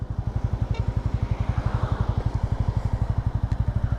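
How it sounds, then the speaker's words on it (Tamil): A 200cc motorcycle engine runs close by with an even, rapid low thump, steady and unbroken like a settled idle. "ஸ்டார்ட் பண்ணுறேன் சைலன்ஸ் ஸ்டார்ட் டெக்னாலஜி பீட் நல்லா இருக்குது"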